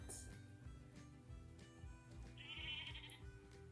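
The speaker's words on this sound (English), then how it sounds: "A sheep, we got it." A sheep sound effect delivers a single wavering bleat in the second half, clear and fairly close, above a continuous low hum.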